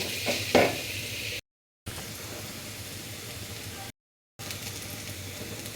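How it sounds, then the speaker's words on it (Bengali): Chopped onions frying in hot oil in a pan, a soft continuous sizzle with a few stirring scrapes near the start, broken by two short silent gaps. "প্রথমে তেল দিয়ে তেলটা একটু গরম করলাম, এরপর পেঁয়াজ কুচি দিলাম।"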